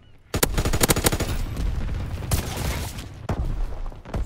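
Flak guns in a World War II video game firing rapid, loud bursts, a quick stuttering volley of sharp reports that continues with heavier thuds, close and dominant.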